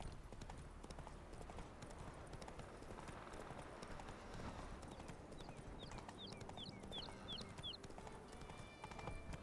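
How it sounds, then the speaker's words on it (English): Horse galloping in the video game The Witcher 3, a rapid run of hoofbeats under a constant noisy bed, with faint bird-like chirps in the middle. "Run, Roach."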